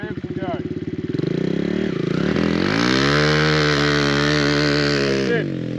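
A motorbike revs hard, its engine note climbing and then holding a loud, buzzing drone as it pulls away close by, with a brief lift and re-rev partway through.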